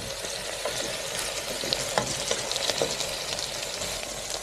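Olive oil sizzling in a pan, a steady bright hiss with small crackles running throughout, close and fairly quiet with no voices.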